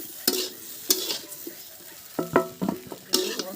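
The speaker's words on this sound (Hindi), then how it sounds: "हम कढ़ाई में आलू को रख दिए हैं थोड़ी सी फ्राई होने के लिए। आलू को हम फ्राई करेंगे।" Potatoes frying in a hot kadhai (wok), with sharp stirring scrapes at a steady rhythm over a constant sizzle, close up and loud.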